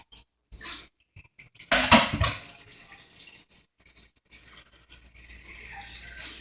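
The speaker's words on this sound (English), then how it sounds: "So I'm going to add some water to this." Water splashes and pours into a cooking pot of pig feet in uneven bursts, with a clatter of handling noise before and quieter trickling afterward.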